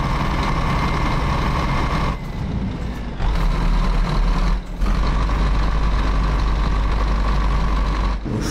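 A Scania R500 truck hauling a sider trailer in Euro Truck Simulator 2, driving near São Luiz Gonzaga, rumbles loudly with a constant low engine drone, while short bursts of air-brake hiss cut in and out a few times.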